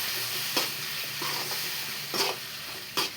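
Onions sauteing with tamarind juice in a pan, a soft steady sizzle under several spaced scraping stirs, close by and fairly quiet, with no talk.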